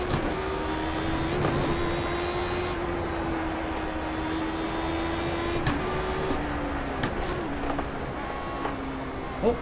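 A race car engine in the iRacing game drones steadily at high revs, with shifting pitch and a few sharp drops that mark downshifts, loud and continuous throughout.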